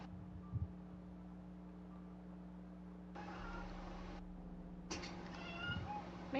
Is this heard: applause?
no